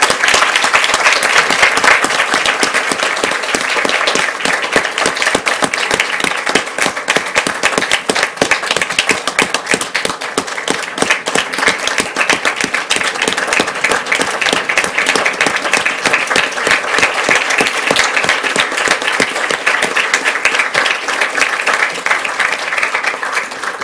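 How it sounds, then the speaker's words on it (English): An audience at a school board meeting gives a long, steady round of applause, dense close clapping that holds evenly throughout. "Let's give her a round of applause."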